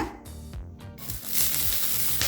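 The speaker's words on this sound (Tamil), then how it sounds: "இப்போ பச்சை மிளகாயை நல்லா வதக்கிக்கலாம்." Four green chillies sautéing in a little oil in a kadai: a dense, close hiss of sizzling frying takes over after a short opening and holds steady to the end.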